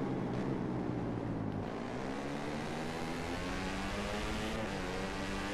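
Moto3 racing motorcycle in MotoGP 2015 accelerating, a continuous high-revving engine whine rising in pitch, heard close and steady without speech.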